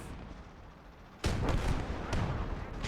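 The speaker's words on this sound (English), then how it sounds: "our Panzer III does take a direct hit from another Churchill Mark V" A Churchill Mark V cannon round strikes a Panzer III in the tank game Gates of Hell: Ostfront with a heavy, booming impact, then a second blast follows, over continuous battlefield rumble.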